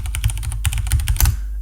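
Fast typing on a computer keyboard, a quick burst of about a dozen crisp key clicks close to the microphone, ending after a short final flurry.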